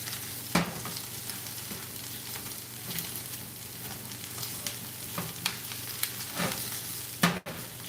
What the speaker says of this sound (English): Garlic. We're going to stir it until it's golden.